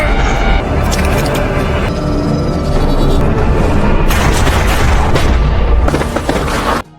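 Gunfire in a film scene where two men open fire: loud, dense booming shots and blasts under an ongoing rumble, with sharper cracks near the middle and end.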